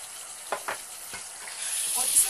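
Mutton korma masala with turmeric, garam masala and salt being stirred and roasted in a pan, a soft steady sizzle broken by a few scraping stirs over about two seconds, close and fairly quiet.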